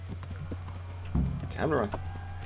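Brief clip-clopping hoofbeats of a ridden horse with a short whinny in the game Kingdom Come, over a low steady hum.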